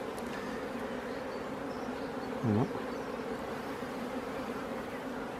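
Honeybees hum in a steady, dense drone from an opened hive while a drone-brood frame is inspected. A single closer bee briefly swells louder as it passes, and a short spoken word is heard.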